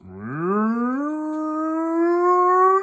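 A person imitates a cow's long, rising moo in a single drawn-out call, clear and close, with no other sound.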